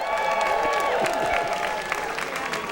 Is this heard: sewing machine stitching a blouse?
no